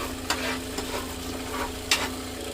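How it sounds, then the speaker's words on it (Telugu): Spoon stirring Afghani chicken gravy in a frying pan, a soft steady sizzle with a few sharp scraping strokes against the pan, fairly quiet and close. "పెనంకి అంటుకోకుండా థిక్నెస్ వచ్చే వరకు కలుపుతూ ఉండాలి"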